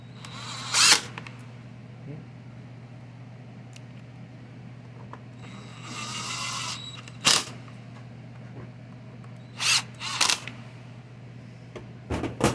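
Power driver tightening screws on a Husqvarna 125B leaf blower during coil and parts installation: several short, sharp mechanical bursts spread across the stretch, with quiet handling noise and a steady low hum between them.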